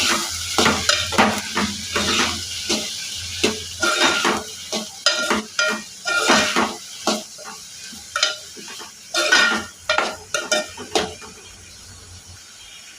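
A spoon stirs chana dal and cauliflower masala curry with chilli, turmeric and salt in a pan, scraping and clinking steadily against the metal over a soft sizzle, close and fairly loud.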